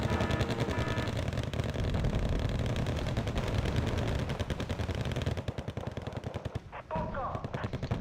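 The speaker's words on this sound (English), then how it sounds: "Medium machine guns." Medium machine guns fire in the war video game Wargame: Red Dragon as dense, loud, rapid bursts of gunfire. The clatter carries on almost without a break and thins out toward the end.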